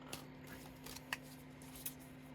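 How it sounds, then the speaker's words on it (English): Soft riffling of a new, stiff deck of cards being shuffled, a few quiet flicks and taps at close range over a steady low electrical hum. "They're a newer deck, so they're not shuffling all that well"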